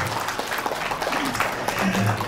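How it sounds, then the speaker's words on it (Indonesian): Guests at a wedding reception applaud, a steady wash of clapping at moderate level, with a voice heard faintly underneath. "Kita berikan sekali lagi tepuk tangan paling meriah untuk Rio, Jane dan kedua orang tua."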